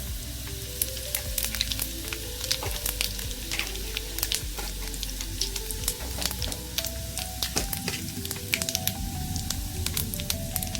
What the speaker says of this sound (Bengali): এবার এতে আমি 1 চামচ জিরে দেব